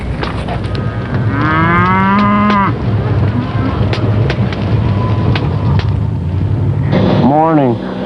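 Cattle mooing on a ranch cattle drive headed to the Mid-State Fair: two long, loud, drawn-out moos, one near the start and another near the end, over steady outdoor rumble with a voice briefly in between.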